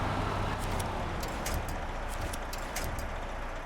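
A military truck's engine in the Snowrunner video game rumbles steadily at a moderate, even level with faint clicking and rattling above it, and no talk.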